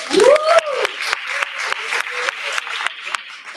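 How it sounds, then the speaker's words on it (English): Audience applause at a general assembly of an international agricultural students' association, a burst of individual claps with a brief vocal cheer at the start, then sparse, irregular claps tapering off. "One clap for him, please."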